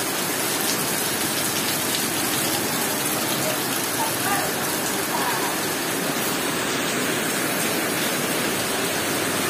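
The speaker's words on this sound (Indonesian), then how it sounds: "Masya Allah hujan guys." Rain falls steadily outside in Palembang, a dense even hiss of heavy downpour continuing unbroken throughout at fairly close range.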